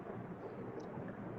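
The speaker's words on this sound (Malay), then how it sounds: "Oh, bukan. Ni bunyi kipas." Steady broadband whooshing drone, like an electric fan running close by, constant and unbroken with no voices.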